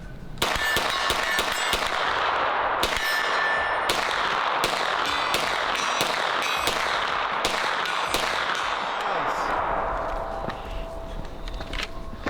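Rapid gunshots from a Springfield Kuna or H&K MP5 pistol-caliber firearm at a shooting range ring out in a fast, dense string of cracks for about ten seconds, close and loud, before tapering off.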